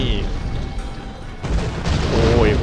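A gun fires explosive rounds in a shooting video game, loud booming blasts under excited talk, with a sharper burst midway and rumbling game sound effects after it.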